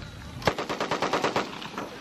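An M60 machine gun fires a rapid burst of about a dozen rounds at Army training on Fort Leonard Wood, loud and close, each shot distinct in a steady fast rhythm.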